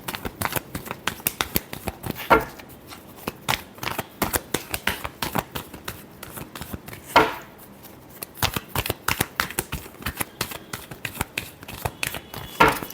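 Tarot cards riffled and shuffled in a dense run of crisp, rapid flutters and taps, close and fairly quiet, with three sharper bridge-like bursts around the middle and end and no talking.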